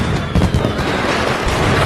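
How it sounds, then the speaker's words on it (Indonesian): Fireworks go off in a quick cluster of booms and crackling bursts, loud and rumbling for a moment before the noise settles into a dense wash. "Tiba-tiba Weizi mendengar suara kembang api di sana."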